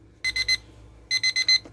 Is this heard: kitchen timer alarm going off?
yes